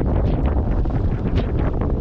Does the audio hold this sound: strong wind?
yes